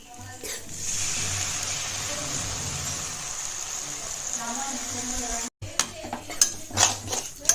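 Sambar poured into dum idli and stirred with a metal spoon in a pot, scraping and clinking steadily at close range, then a brief pause followed by sharper, louder utensil knocks.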